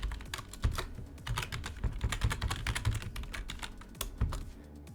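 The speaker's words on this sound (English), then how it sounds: "Then type in your password." A password being typed on a computer keyboard: quick, irregular key clicks close up, with steady tapping and a few louder strokes, no talking.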